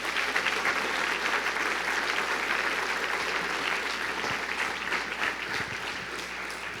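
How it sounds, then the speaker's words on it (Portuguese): A church congregation claps loudly during an online worship service, a dense, sustained wash of applause that holds steady throughout with faint voices mixed in. "Aplaudir, aplauda forte."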